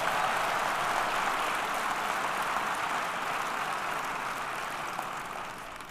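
Sustained applause from an audience at a Metropolitan Police Department awards ceremony honoring former chief Charles H. Ramsey, a steady, dense wash of clapping that slowly tapers without any voices over it.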